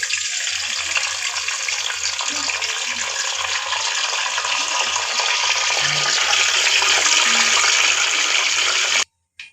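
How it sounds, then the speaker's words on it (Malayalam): Mustard and fenugreek seeds splutter in hot oil for a mango pickle, a loud, steady frying hiss with scattered small crackles and pops close by, ending suddenly. "കടുക് പൊട്ടിയിട്ടുണ്ട്. കടുക് ഉലുവയും പൊട്ടിയിട്ടുണ്ട്."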